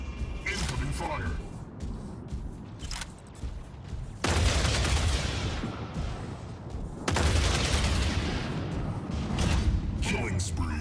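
Heavy incoming gunfire and booming weapon blasts in the mech combat game Mech Arena, loud, dense and continuous, with sharp surges around four and seven seconds, under intermittent game announcer voice lines.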